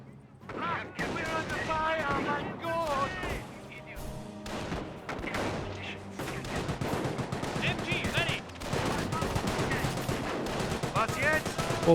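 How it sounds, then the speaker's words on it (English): Bursts of MG42 machine-gun fire in a Company of Heroes battle, mixed with other gunfire, explosions and music, playing loudly under continuous commentary. "Now I got the MG42 sitting on up as well."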